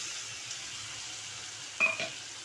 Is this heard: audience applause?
no